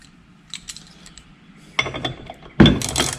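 Ratchet and wrench working the blade bolt on a Craftsman 29cc lawn edger, heard as light metallic clicks and ticks, then louder clattering and a sharp clank near the end.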